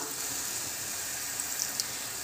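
Carrot sautés steadily in hot ghee in a pan, a constant close frying hiss with a few faint pops and no talking.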